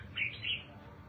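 An old pet bird, fourteen years old, gives two quick high chirps indoors over a faint low background hum.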